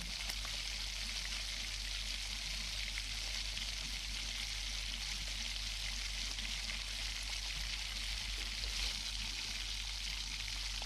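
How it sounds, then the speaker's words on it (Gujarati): Pav bhaji bubbling in a pan as it is kept stirred so it won't stick, a constant soft hiss and sizzle with a low hum underneath and faint scraping now and then, steady throughout with no talking. "આ રીતે આપણે હલાવતા રહેવાનું છે, કારણ કે તે નીચે ચોંટી ન જાય."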